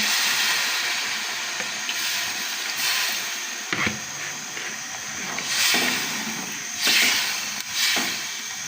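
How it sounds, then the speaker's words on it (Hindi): Water is poured into a pot of aloo gosht mutton curry, giving a steady hissing, splashing wash with a few brief louder surges throughout. "अब मैं इसमें पानी शामिल करूँगी।"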